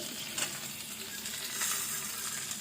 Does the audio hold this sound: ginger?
yes